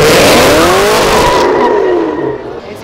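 A Chevrolet Camaro ZL1 slides sideways on oil on a city avenue, its engine wailing and tires squealing loudly for a couple of seconds before the noise fades away.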